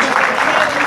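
An audience at a book launch event bursts into sustained, even clapping, close and fairly loud, with no speech over it.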